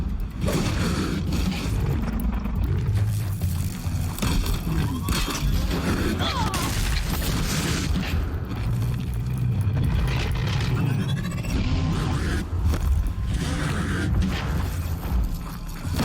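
In the Horizon Zero Dawn video game, robotic machine creatures make loud mechanical creaks, thumps and clanks in a dense, continuous stretch of game audio, with some muffled voice-like sounds mixed in.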